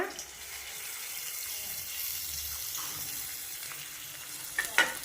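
Onion and tamarind masala for a fish curry sautés quietly in a pan with a soft, steady sizzle, and a few small splashes and clinks come near the end.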